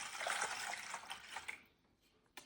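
Lukewarm tap water runs into a hydroponic growing container as it is filled, a steady broadband pour for about a second and a half before tapering to quiet trickles and a brief splash at the end.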